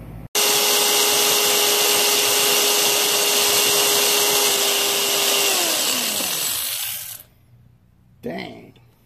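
A loud, steady high-pitched whine of a power drill boring into the metal of a Weber kettle grill, winding down in pitch as the motor slows and stops, followed by a brief scrape.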